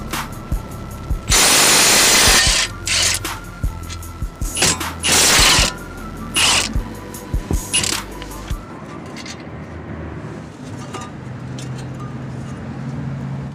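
A power tool fitted with a 21mm socket loosens caliper bracket bolts on a 2013-2016 Chevy Malibu front hub: loud, close bursts of rattling impact, several short stops and restarts, then quieter clinks and shop noise.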